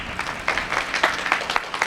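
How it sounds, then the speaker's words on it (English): Audience applause at a 1989 press conference for the Alexander Young Terrace Apartments, a dense patter of many hands clapping at moderate volume that swells in uneven waves, with no voices over it. "Let's give him a round of applause"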